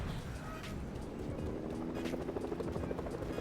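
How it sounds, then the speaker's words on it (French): A video game helicopter whirs with a steady rotor drone and rhythmic chopping pulses that grow slightly stronger toward the end, fairly close. "Un hélicoptère."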